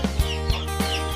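A Lasani rooster gives three or four short, close clucks spaced unevenly over a second, loud over a steady background hum.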